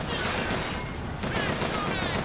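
Bioshock Infinite firefight, a dense, continuous burst of rapid gunfire and crashing impacts lasting a couple of seconds, loud and busy, with a voice faintly mixed in.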